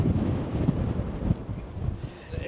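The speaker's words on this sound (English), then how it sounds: "you may be able to hear that wind blowing" Wind gusting on the Wild Atlantic Way coast of Ireland in February, rough low rumbling buffets against the microphone that rise and fall through the short stretch, fairly loud and close.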